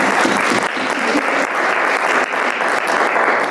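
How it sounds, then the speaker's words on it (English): An audience claps in sustained, dense applause, loud and even for several seconds with no pause. "So let's give Pat Gardner another round of applause, please."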